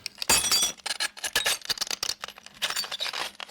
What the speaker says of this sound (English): Craig and I went out and got some glass bits and wound up breaking those